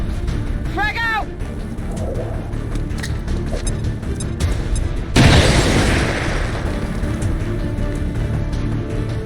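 A frag grenade goes off in the XCOM 2 War of the Chosen game, a heavy boom with a burst of noise about midway, over a constant game soundscape and speech from game characters.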